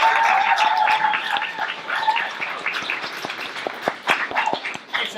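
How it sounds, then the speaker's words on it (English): An audience at a student and graduate entrepreneurial competition breaks into sustained applause, a dense wash of clapping that gradually thins into scattered individual claps. "Big round of applause, guys."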